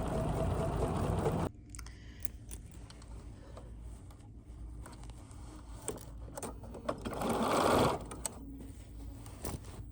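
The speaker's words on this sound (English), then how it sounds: "you are going to over sew when you get to where you started" A sewing machine stitches around a circular zippered bag, a quiet whirring run at the start, then softer intermittent clicks and handling noises with another brief stitching burst later.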